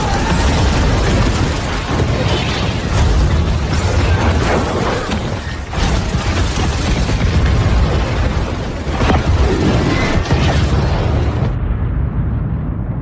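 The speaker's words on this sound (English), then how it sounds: "Keezer then throws the grenade towards the oil tank, causing a massive explosion in the camp." Massive explosion as a grenade strikes an oil tank in a jungle camp in the 2003 war film Tears of the Sun, a loud, dense, sustained roar and rumble filling the whole stretch with no talk.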